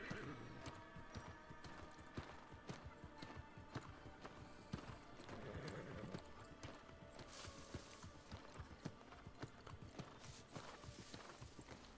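Steady clip-clop of horse hooves in the video game New World Aeternum, at a brisk trotting rhythm, close and continuous, with occasional clatter and no voices.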